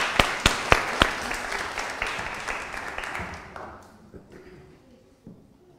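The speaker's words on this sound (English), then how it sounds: "Can we clap for him," A church congregation at a harvest all-age worship service breaks into applause, a few sharp early claps swelling into dense clapping that gradually fades away over several seconds.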